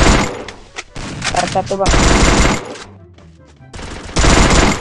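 Vector submachine gun firing in a shooting video game, loud rapid bursts of automatic fire broken by short pauses, with players talking between and over the shots.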